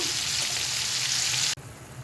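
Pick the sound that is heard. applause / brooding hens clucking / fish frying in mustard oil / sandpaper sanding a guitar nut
fish frying in mustard oil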